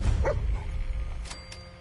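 A dog in Fallout 4 lets out a brief bark and yip near the start, followed by softer whimpering sounds.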